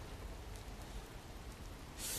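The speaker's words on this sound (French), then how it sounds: "Il pleut énormément." Heavy rain at night in Hiroshima, a dense, steady hiss of downpour that swells louder at the end, with no voices over it.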